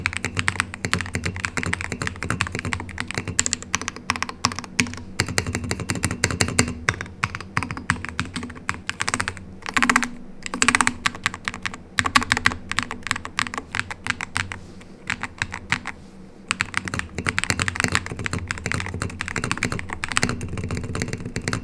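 Rapid typing on a DrunkDeer X60HE mechanical keyboard clacks continuously up close, with brief pauses and a few heavier thocks from larger keys, no voices.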